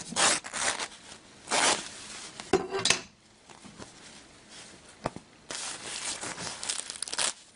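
Knit fabric is peeled away from water-soluble Aqua Magic Plus embroidery stabilizer: a run of dry ripping and tearing bursts with short pauses and a few crisp snaps, close and moderately loud, with no talking.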